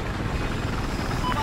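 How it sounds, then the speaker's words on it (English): Rotor thump of an enemy helicopter in the Battlefield 4 video game, a steady dense chopping drone filling the short stretch with faint game noise behind it. "I have eyes on a hostile helicopter north of your position."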